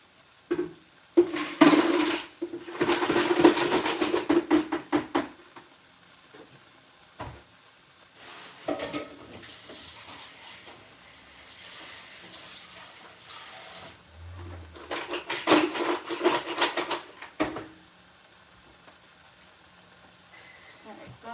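Seafood sizzles and fries in a pan on the stove, a soft continuous crackle under bursts of nearby talking, with occasional clinks of a pot or utensil.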